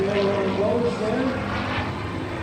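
A P-40 Warhawk flying a display at the Westmoreland County airshow, its engine a steady, loud broad roar with rising and falling tonal sweeps, heard under a commentator's voice.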